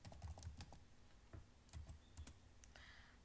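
Quick, fairly faint clicks of typing on a computer keyboard, with bursts of keystrokes separated by short pauses, heard close and on their own.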